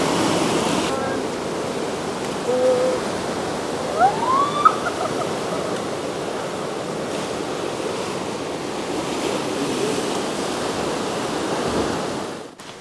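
Ocean surf at Diamond Beach on Nusa Penida roars as a continuous, distant wash of breaking waves with wind buffeting, and faint voices rise briefly underneath.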